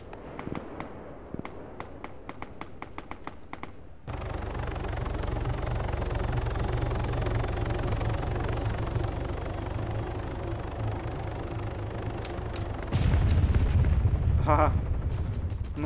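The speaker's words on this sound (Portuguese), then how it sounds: "O cara quer pousar de helicóptero no meio da treta." In the video game Arma 3, rapid gunfire crackles for a few seconds, then a helicopter's heavy rotor and engine roar takes over during a firefight, growing louder near the end with more bursts of shots.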